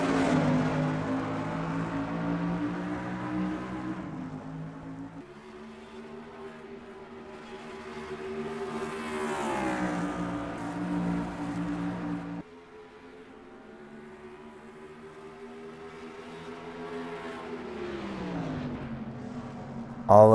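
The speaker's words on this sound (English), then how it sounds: "And we are green flag racing at Pikes International Raceway" Race cars in the NR2003 sim racing game, a sprint series event at Pikes International Raceway: a steady, droning engine whine from several cars that swells and dips in pitch as they accelerate and lift, with no talking.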